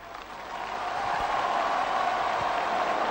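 A live audience at a stage show breaks into sustained applause, a dense wash of clapping that swells over the first second and then holds steady and loud, with no voice over it.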